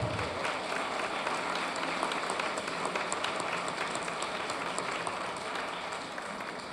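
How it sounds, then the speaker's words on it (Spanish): Audience applause at an author talk at the Guadalajara book fair, a dense, steady clapping from many hands filling the room, moderately loud and continuous, easing slightly near the end. "Un aplauso para Sergio Ramírez,"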